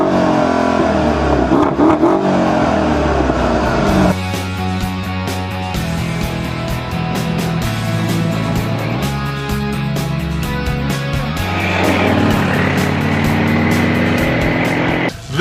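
A 2013 Mercedes-Benz SL63 AMG Roadster engine fires up with a loud, close roar, then settles into a deep idle broken by a few throttle blips and revs.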